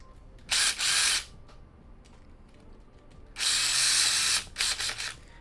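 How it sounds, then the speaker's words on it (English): A power driver whirs in two loud bursts, one short and one longer with stuttering tail, as screws are driven into a humanoid robot arm during assembly; quiet handling noises in between. "So now we can force these screws all the way through."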